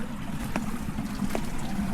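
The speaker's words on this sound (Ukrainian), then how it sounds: "скрізь чути шум води" Rushing water of a stream near Charco del Viento in La Guancha fills the scene with a steady, close broadband hiss and a few faint splashes, with no talking.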